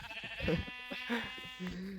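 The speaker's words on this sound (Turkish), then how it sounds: "Ah, kuzu." Sheep in the Minecraft video game bleat in short, nasal, wavering calls, several in quick succession, heard clearly and close over a quiet background.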